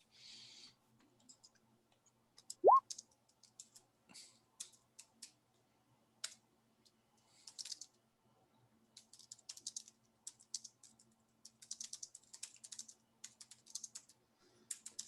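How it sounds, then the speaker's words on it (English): Rapid typing on a computer keyboard: quiet, irregular bursts of light key clicks that come and go, then grow denser toward the end, with no talk over them. "That's a whole lot of typing for nothing of interest."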